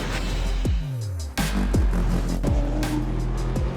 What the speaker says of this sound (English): taking on Bruce Tannock will be Liam Burke in the Nissan Silvia S13